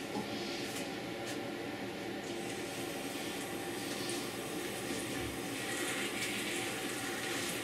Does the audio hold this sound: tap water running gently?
yes